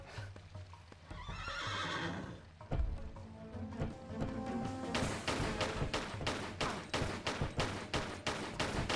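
Horse neighing and clip-clopping hooves in Tomb Raider: The Last Revelation, a loud whinny up front and then a steady run of sharp hoofbeats, with game music and ambience underneath.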